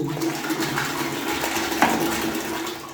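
The last of the water drains from a toilet cistern with the tap shut off. It is a steady close gurgle and trickle with a small clink partway through.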